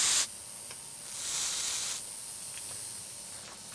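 Short hissing bursts of pruning sealer sprayed from a can onto a long-leafed ficus bonsai, one sharp spritz followed by a softer, longer spray, faint and close with no talk.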